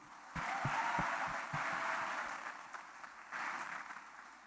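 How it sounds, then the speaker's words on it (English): An audience claps in a steady wash of applause at a college cultural fiesta, moderately loud and sustained, with a few louder hand claps up front. "Then let's give once again a big round of applause."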